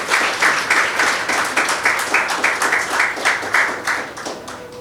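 Audience applause at a library association's 60th annual general meeting, a steady wash of many hands clapping that fills the room at even loudness and tapers slightly toward the end.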